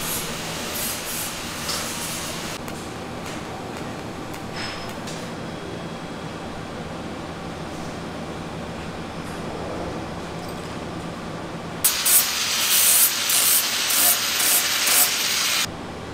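A CNC milling machine cuts a part, giving a steady machining noise throughout, with a louder, harsher cutting burst toward the end.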